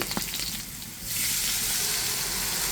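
Onion and green chili fry in oil for a fish-head dal. A soft crackle near the start swells after about a second into a loud, steady, close sizzle, with no voices.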